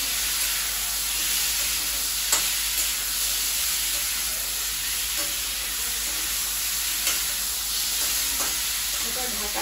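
Food for butter chicken sizzles steadily in a covered pan on a low gas flame, with a constant frying hiss and occasional soft scrapes and clicks of stirring close by.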